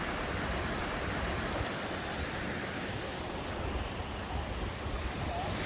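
Ocean surf at Choeng Mon Beach on Koh Samui, Thailand, forms a steady, even wash of waves that sounds soft and fairly distant, without distinct breaks and with no voices.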